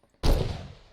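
A single loud burst of gunfire in the shooter Far Cry 2 erupts suddenly after near silence and rings out with a long decaying tail, no voices over it.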